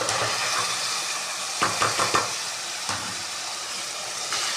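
Potatoes and peas with crushed red chilli being stirred in masala in a pan, a steady close sizzle of frying with a few brief clatters of the spoon partway through.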